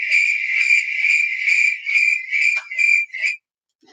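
A crickets-chirping sound effect plays as a steady, shrill trill that holds for a few seconds, then breaks into shorter bursts before cutting off into silence.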